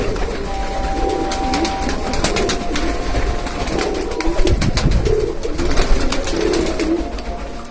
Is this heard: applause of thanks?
no